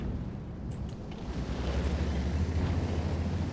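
A heavy, low rumbling artillery blast from the World of Tanks game, swelling from about a second in and rolling on as a loud, sustained boom with no talk over it.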